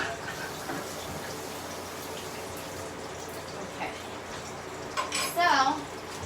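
A spoon scrapes and rattles ingredients around in a bowl, with faint clinks through the clip and a sharper, louder clatter near the end while someone talks.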